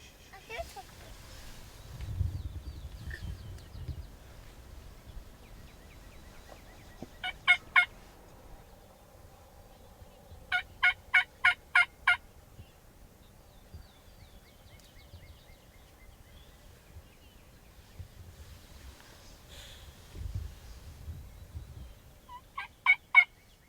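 Wild turkey toms gobbling in the woods during a hunt, several short bursts of gobbles at mid distance spread across a quiet outdoor background with faint low rumbles.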